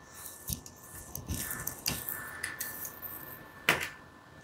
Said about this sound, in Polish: Może sobie pomogę trochę kluczem.